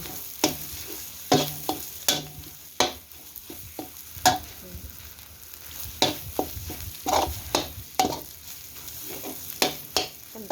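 Thai mackerel chili paste (nam prik pla tu) being stir-fried in a pan, with a low sizzle under frequent sharp scraping and clacking strokes of the spatula in an irregular rhythm.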